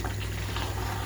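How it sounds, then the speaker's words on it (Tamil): Water at a rolling boil in a pot for Hyderabad mutton dum biryani, a steady close bubbling and rumbling with a low hum beneath, unbroken for the whole moment with no voices. "தண்ணி நல்லா கொதிச்சு வந்துடுச்சு"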